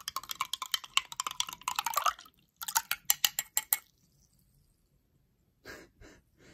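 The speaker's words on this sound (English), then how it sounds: "we're gonna try our drink after you give it a little mix" A drink mix is stirred in water with a run of quick, rhythmic clinks and sloshing taps, then a pause and a short final burst of mixing, close and fairly clear with no talking.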